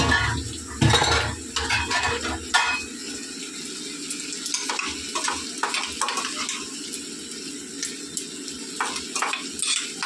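A spice mix goes into a Bengali vegetable curry frying in oil with ginger, bringing a steady close sizzle overlaid by repeated clinks and scrapes of a spoon against the pan, with no one speaking.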